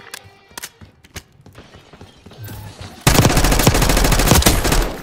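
Automatic gunfire in Call of Duty Black Ops 6 multiplayer: scattered shots at first, then a loud, dense, sustained burst of rapid fire from about three seconds to the end, with no talking.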